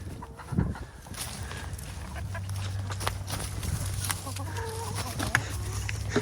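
Chickens cluck and call steadily against an outdoor backdrop, with a low constant hum running underneath through most of the stretch.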